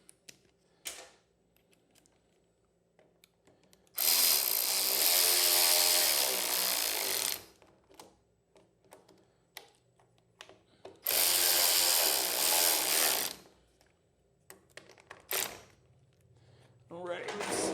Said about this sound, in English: Don't want to over torque them with this super cool ratchet.